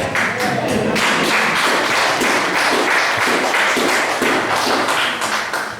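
A church congregation applauding during a baptism service, dense steady clapping from many hands filling the room, loud and close, with a few sharper individual claps standing out and no talk over it.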